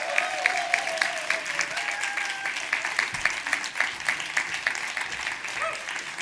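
An event audience claps and cheers loudly and steadily, with rhythmic clapping and bright whistles or whoops on top, sustained throughout without speech.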